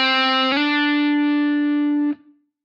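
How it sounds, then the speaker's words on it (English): A single picked note on an electric guitar with a distorted, effects-laden tone slides smoothly up to a second note without a new pick attack, then rings out alone and stops abruptly. "The first is called a legato slide, which sounds like this."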